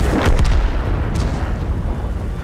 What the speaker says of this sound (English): Really, the artillery came out.